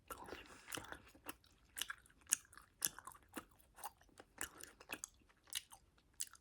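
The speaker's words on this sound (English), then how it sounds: "I have to chew this gum first for a minute before I can talk and chew." Gum chewed close to the mic gives irregular wet smacks and sticky clicks, a quick uneven rhythm of loud snaps separated by brief quiet gaps, with no talking.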